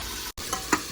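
Pav bhaji vegetables frying in a hot pan make a continuous close sizzle, broken by a brief gap and a couple of stirring scrapes, with no talking.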